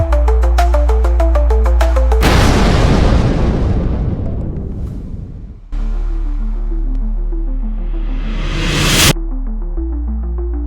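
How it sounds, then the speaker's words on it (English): Loud booming explosions erupt over a pulsing electronic beat, the first roaring blast decaying slowly before another rising sweep ends in a sudden cut. "You can also add sound effects like explosions from Pixabay for free."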